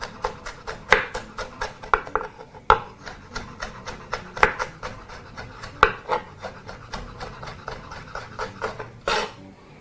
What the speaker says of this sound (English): now proceed to chop that as fine as you possibly can as well